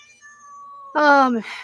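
A domestic cat lets out one clear, fairly loud meow close by, rising then falling, after a faint sustained tone and followed by a brief softer breathy sound.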